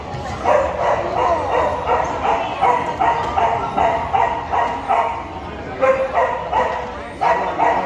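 Rapid, high-pitched yapping barks from a small chow chow repeat in quick bursts, close by, with people talking over them.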